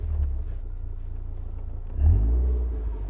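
A 2018 Morgan 4/4 with side-exit exhaust idles with a low burbling rumble, then revs sharply for a brief, louder blip that settles back down, heard close and alone.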